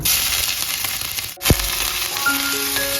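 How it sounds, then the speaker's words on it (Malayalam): Crushed ginger and garlic drop into hot oil in a pan, giving a steady close sizzle and crackle with a brief thump partway through as the pieces go in. "എണ്ണ ചൂടായി വന്നപ്പോൾ അതിലേക്ക് ഇഞ്ചി വെളുത്തുള്ളി ചായച്ച് വെച്ച് ഇട്ട് കൊടുക്കുകയാണ്"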